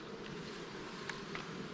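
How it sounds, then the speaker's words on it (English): Bees buzzing inside a queen cell builder hive as the lid is pried off, a steady soft drone with a couple of brief louder passes close by. "Hear a lot of bees in there."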